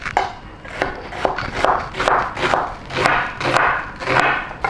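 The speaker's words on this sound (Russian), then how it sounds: "Лук мы режем такими кусочками мелкими." A knife chops onion into small pieces for a Tuscan bean soup, steady loud rhythmic cuts striking the board about twice a second, close and with no talk.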